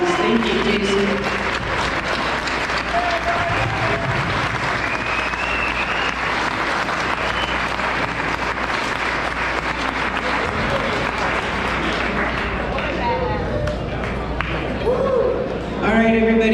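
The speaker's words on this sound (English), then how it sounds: "give him a round of applause" An audience gives sustained applause at the Flatoberfest event, with dense, even clapping for about fifteen seconds that tapers off as a voice begins to speak.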